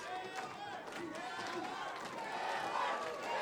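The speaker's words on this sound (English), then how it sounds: "you can hear that crowd screaming" A wrestling arena crowd yells and screams together in a sustained wash of voices that swells slightly toward the end.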